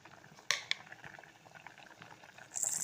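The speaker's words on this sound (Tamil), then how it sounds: "இப்போ இது நல்லா கொதிக்குது." Mango kuzhambu with sugar and salt bubbles and simmers steadily in a pot up close, with a couple of sharp clinks early and a hissing rise near the end.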